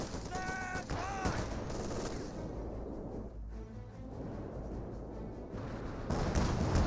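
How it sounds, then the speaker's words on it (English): A mortar counter-barrage in Company of Heroes 2 rumbles as a steady, dense wash of distant battle noise, with a brief whistling tone early on and a heavier swell near the end. "And he is counter barraging the mortar."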